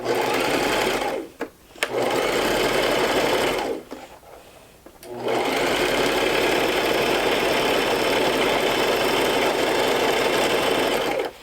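A sewing machine stitches a bag in a close, loud, steady whir. It stops briefly twice and then runs on continuously.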